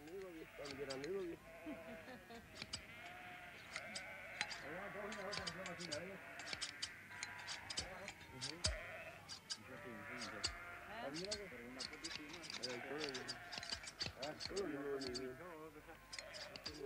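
Many sheep bleat over and over in a busy flock ready for shearing in Wales, overlapping calls near and far, with a voice speaking beneath.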